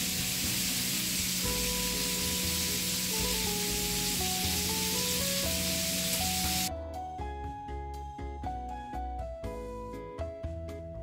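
Olive oil and margarine sizzle in a pan for farofa, a steady close hiss under background music for about seven seconds before it drops away and only the music remains.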